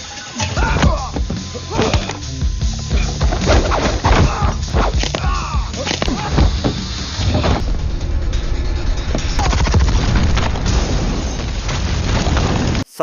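An oxygen tank explodes in an action film scene, with loud booming blasts and crashing impacts over a dense, continuous rumble of mixed soundtrack noise that lasts throughout.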